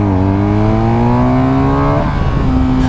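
A BMW GS motorcycle engine revs on a race track, its pitch rising steadily and then dropping as the rider shifts, loud and close, with no talking.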